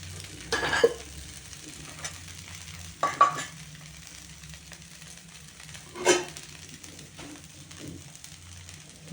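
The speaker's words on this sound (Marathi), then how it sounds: "असं भोवतालून थोडंसं तेल टाकलं की लवकर उलटतात, म्हणून असं भोवताल तेल टाकायचं." Dhirde, savory pancakes, fry in a pan with oil drizzled around the edges, giving a soft continuous sizzle with a few brief louder spatters, quiet and close, without talking.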